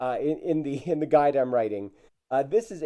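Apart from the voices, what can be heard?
No everyday noises stand out.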